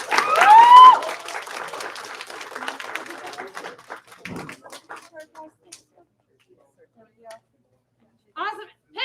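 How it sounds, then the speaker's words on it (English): A short burst of clapping from students and parents at a class gathering opens the clip and quickly thins out. A high squealing tone sits over the start, and people speak afterward with scattered quieter noises. "So we give them a huge round of applause."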